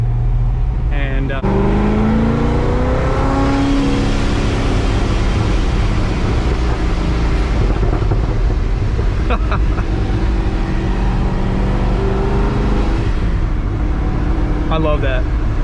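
A supercharged car's engine roars loudly and continuously, close to the listener, as it revs through gears, with sharp whooshing blow-off valve bursts breaking through now and then.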